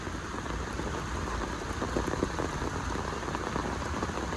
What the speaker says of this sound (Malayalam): ശക്തമായിട്ട് മഴ പെയ്തുകൊണ്ടിരിക്കുന്നു